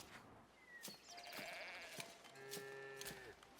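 Sheep on a sheep farm in the video game Foundation bleat several times in overlapping calls, fairly close and clear over a soft background.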